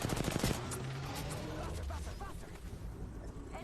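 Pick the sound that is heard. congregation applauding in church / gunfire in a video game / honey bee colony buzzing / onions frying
gunfire in a video game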